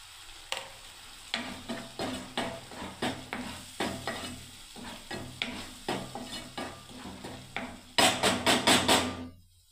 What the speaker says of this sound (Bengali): এবারে আমি নাড়তে থাকবে এবারে